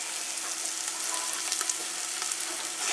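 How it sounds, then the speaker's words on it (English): Beef pot roast searing fat side down in a pressure cooker, a dense, steady hiss of frying fat with faint crackles and pops throughout, close and continuous. "So I'm going to put this in here, fat side down, and I'm going to let it sear for just a few minutes on all sides"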